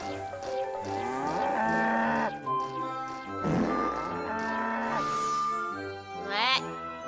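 Cattle moo several times with long, loud, drawn-out calls, mixed with light jingling and tinkling, set on a dairy farm where cows are milked.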